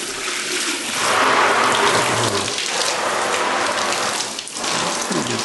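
Shower water runs hard in a flat's bathroom to rinse a photo screen-printing screen, a loud, close, steady rush of spray that swells and dips slightly as the stream shifts against the mesh.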